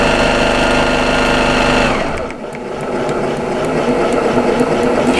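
A Baby Lock Accomplish sewing machine stitching fast, a loud, steady, rapid mechanical whir that slows briefly partway through and then picks back up.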